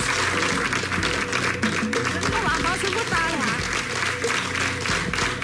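Studio audience on a Portuguese afternoon television talk show applauds steadily as a guest arrives, a thick, unbroken wash of clapping with a voice speaking over it.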